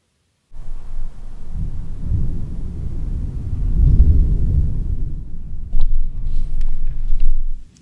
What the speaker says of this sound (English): That was some really loud thunder.